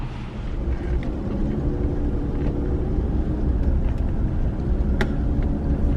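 Steady road traffic rumble at a highway rest area, a continuous broad roar of passing cars and trucks with no talk over it.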